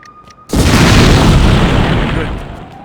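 A single loud, booming explosion from a fused explosive in The Godfather II video game bursts in after a quiet moment, then rumbles and slowly fades.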